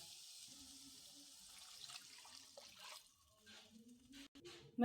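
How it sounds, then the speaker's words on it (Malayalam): Hot water pours into a cooking pot over frying spices, a continuous gushing hiss that gradually eases and ends with a few splashes and a clink. "ചൂട് വെള്ളം ഒഴിച്ചു കൊടുക്കുക"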